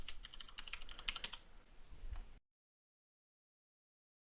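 Typing on a computer keyboard during a Windows Server 2019 install, a quick run of soft key clicks for about two seconds, then silence and a single final keystroke.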